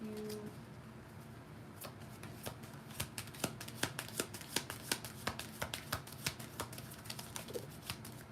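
A tarot deck is shuffled by hand at close range, its soft riffling growing into a rapid run of crisp card snaps and flutters, quiet and without talk.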